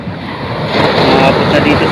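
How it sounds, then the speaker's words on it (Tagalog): Steady roar of heavy storm surf close by in Samar, Philippines, during Typhoon Wilma, a continuous rushing wash of large waves with wind noise buffeting the microphone. "Lalaki ng alon."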